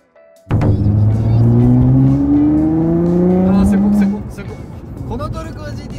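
A modified car built for gymkhana, circuit racing and dirt events accelerates hard and close by, its loud engine climbing through the revs in long rising sweeps before easing off and settling to a lower drone.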